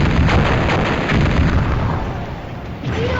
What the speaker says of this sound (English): All port cannons, prepare to fire!